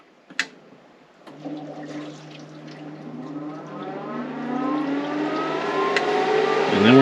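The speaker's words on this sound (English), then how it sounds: "We're gonna turn on the cooling system." The cooling system of a 4500 PSI PCP air compressor used for filling paintball and air gun tanks switches on with a click, then a whirring, motor-like hum rises steadily in pitch and loudness over several seconds, with no talking.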